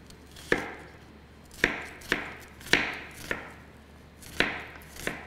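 Onion is chopped on a board in a home kitchen while Saudi-style liver tacos are being prepared, giving seven sharp, evenly spaced knife thuds at a steady, unhurried pace, close and clear, with no talking.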